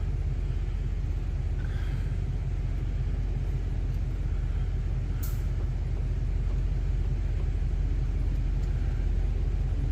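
A 2000 Chevrolet Express van with a 4L80E transmission reverses slowly, giving a steady, loud low engine rumble and drone that stays constant, with a brief sharp high squeak partway through.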